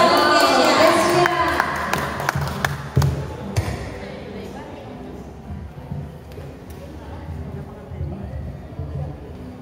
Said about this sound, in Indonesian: Kita berikan tepuk tangan yang paling meriah.